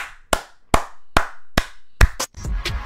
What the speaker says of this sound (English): Let's give it a round of applause for our Lord and Savior